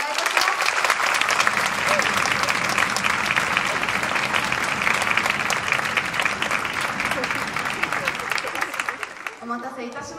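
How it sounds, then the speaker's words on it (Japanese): A hall audience at a Kawasaki high school band's annual concert gives sustained, loud applause that holds steady and then fades out near the end. "もう一度拍手をお願いいたします"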